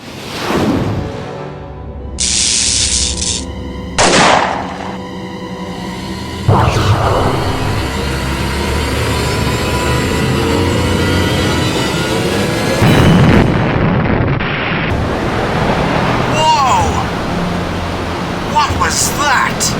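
An underwater nuclear depth charge detonates in an audio drama scene: a deep, heavy rumbling blast that swells and rolls on for many seconds under bursts of shouting voices and tense effects.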